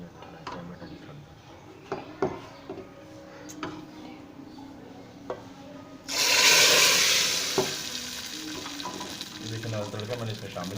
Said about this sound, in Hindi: तड़का मैंने इसमें शामिल कर दिया है।